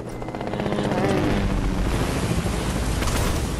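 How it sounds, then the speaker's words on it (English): A video-game helicopter gives a steady, loud rotor roar with dense low thumping that fills the whole stretch, heard with no talking over it. "I'm not finna get in the helicopter yet."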